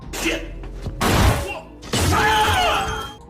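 A body crashes down stairs strewn with broken glass during a brutal fight in a farmhouse, heard as loud shattering and heavy thuds in two close bursts with crunching glass debris.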